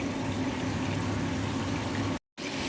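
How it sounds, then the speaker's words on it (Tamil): A Goan-style prawn curry boiling vigorously in a pot up close, a steady rolling bubble that cuts out for a moment near the end. "இது நல்லா கொதிக்க விட்டு"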